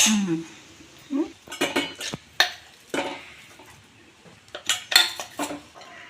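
Irregular clinks and scrapes of a utensil against a bowl as kidney beans are pressed and mashed, close by, in uneven bursts.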